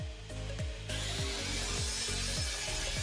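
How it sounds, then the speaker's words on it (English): A saw cuts a wooden shiplap board for a chevron accent wall, making a loud, continuous grinding rasp with rhythmic repeated strokes, close and with no talking. "Next, let's cut the board on the right."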